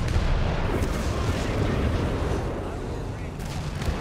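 Howitzer artillery fire in Company of Heroes 3, a World War II strategy game, rumbles as a dense, continuous barrage of booms across a busy battle mix, with a voice talking over it.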